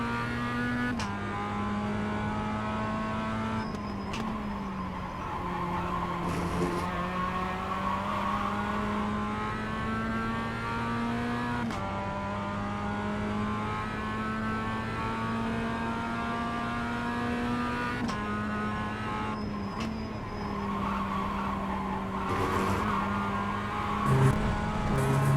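Race car lapping on cold tyres in a racing video game, a steady loud engine drone with shifting pitch through gear changes and corners, continuous over the whole lap with no talking.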